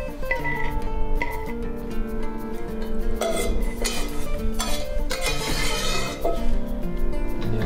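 A utensil scrapes and clinks against a pan while lasagna is being assembled and finished with sauce and cheese, a busy, continuous run of close metallic scraping and clatter with kitchen background noise.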